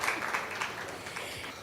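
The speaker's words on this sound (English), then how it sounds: "Come on, round of applause for them," A conference audience gives a short burst of applause for panelists, a soft, steady wash of clapping heard briefly and from some distance.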